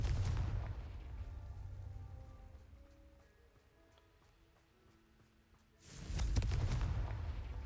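A Confringo fire spell blast in the Hogwarts Legacy video game lands as a loud, broad booming explosion near the start and again at the end, with a quieter rumbling stretch between, and nobody talks.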